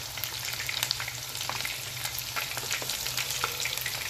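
Pinuneg, a Cordilleran blood sausage, sizzles and crackles steadily as it toasts in a pan, with a dense, continuous frying hiss and scattered pops throughout, under no talk.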